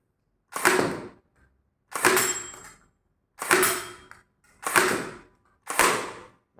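A toy blaster fires five times in semi-auto mode, each shot a sharp snapping burst with a short mechanical tail, spaced about a second apart, close up and with no voices.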